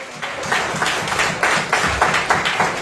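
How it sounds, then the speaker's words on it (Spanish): A church congregation claps along in a steady rhythmic beat, moderately loud and even, with the claps repeating at a regular pace for a few seconds. "Den un aplauso al Señor esta tarde"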